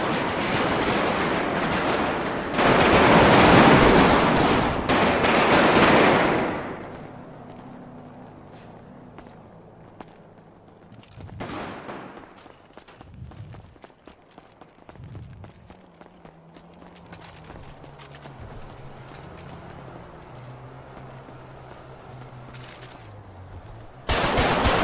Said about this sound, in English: Who just shot at us?